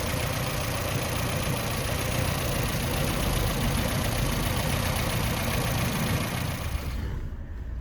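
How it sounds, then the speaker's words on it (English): A Ford Fiesta Mark IV engine idles steadily and loudly up close for several seconds, a constant even rumble with no voices, cutting off abruptly near the end. "It's a very clean engine, isn't it?"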